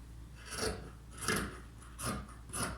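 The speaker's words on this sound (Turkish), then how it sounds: "O yüzden çizgilerin üzerinden kesiyorum" Scissors cutting along the lines of a paper sewing pattern for pajama or sweat trousers, four evenly spaced rasping snips, close and moderately quiet.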